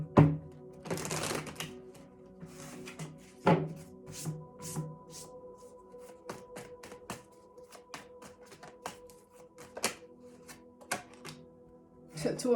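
Tarot cards being shuffled and tapped in quick bursts of riffling and soft clicks, close by, with occasional thuds and no talking.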